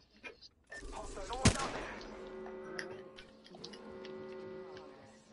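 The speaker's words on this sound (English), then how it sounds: "I just got shot at though from afar" Video game gunfire: a sharp close shot rings out, followed by faint distant bursts and hums under a low, quiet background, with players talking over it.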